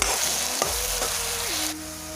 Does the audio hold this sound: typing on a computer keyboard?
no